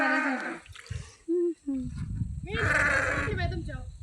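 Several loud bleats from a hungry sheep, close by, with a short pause between them and some shuffling and rustling in the background.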